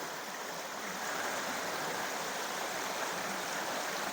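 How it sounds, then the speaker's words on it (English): A forest river flows beside a wild campsite, a soft, even rushing of running water heard at a distance, steady and unbroken with no talking. "There's the river."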